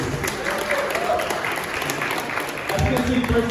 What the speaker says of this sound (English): Round of applause for Rory